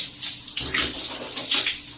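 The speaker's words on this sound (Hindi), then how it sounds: "तो देखिए पानी हल्की स्पीड में रखें, आप हाथ धो लीजिए" Tap water runs at low speed while hands are washed for wudu, a steady close splashing stream with uneven bursts as the hands move under it.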